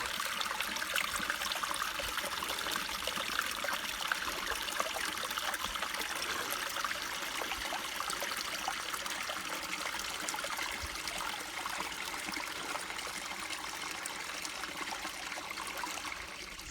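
Small mountain stream in Faith Valley, California, trickling and burbling steadily with a bright, continuous water wash, moderately close and with no voices.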